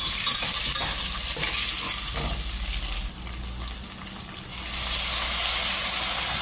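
Crab meat sautés in a pan for a creamy pasta, giving a loud, close sizzle with stirring scrapes that dips briefly midway, then swells back into bright frying hiss, with no talking.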